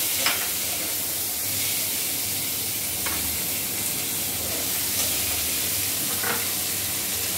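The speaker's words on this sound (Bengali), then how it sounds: "এবার কেটে রাখা পেঁয়াজটা তেলের মধ্যে দিয়ে দেওয়া হলো।" Chopped onions hiss and sizzle steadily in hot pickle oil in a pan, a continuous close frying sound with faint stirring clicks and no voices.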